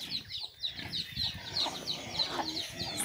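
Backyard chickens cluck in repeated short calls close by, a steady scatter of bird sounds with faint background noise and no talk.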